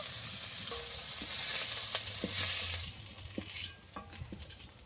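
Yukti flowers frying in oil in a pan give a close sizzle that swells for a couple of seconds and then eases to quieter crackles and light utensil taps.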